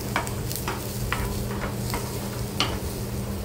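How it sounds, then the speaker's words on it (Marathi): Green chillies, garlic and ginger dry-roasting in a pan for a Maharashtrian val bean dish, with a low steady crackle under a scatter of scraping spoon strokes close by. "याच्यामध्ये मिरच्या टाकायच्या आहेत, लसूण आणि आलं तेही टाकायचं आहे आणि पुन्हा एकदा हे व्यवस्थित थोडंसं हलकं भाजून घ्यायचं आहे"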